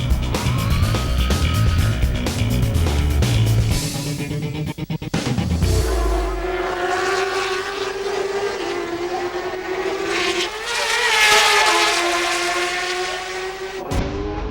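AMA Superbike racing motorcycles scream past in a 2007 championship race, engines wailing loudly with rising and falling pitch as the bikes sweep by, one after another, and the roar never drops away.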